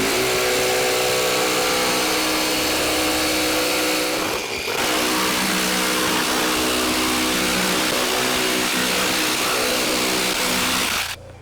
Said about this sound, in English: take the jigsaw and stick it into one of those holes and roughly cut out